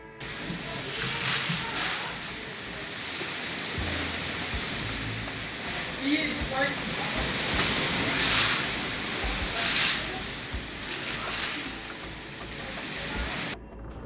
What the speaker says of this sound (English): The rain poured down on him and the wind blew so hard